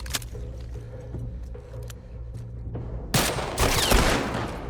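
Gunshots crack in the video game The Last of Us Part 2 on Grounded difficulty: a few scattered sharp shots, then a louder, denser burst of fire near the end over a low background hum.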